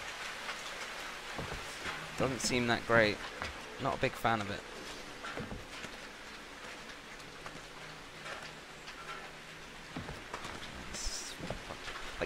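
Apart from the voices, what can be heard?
raining blood in Outlast 2 video game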